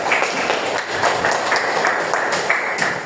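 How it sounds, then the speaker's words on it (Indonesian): Pupils in a classroom applaud a classmate, a short burst of fairly loud, dense clapping that carries on steadily for a few seconds. "Tepuk tangan buat Najib."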